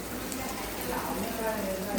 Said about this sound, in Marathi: आता आपण हा मसाला त्यात घालून घेऊया आपला जो हिरवा वाटण आहे ते आपण घालून घेऊया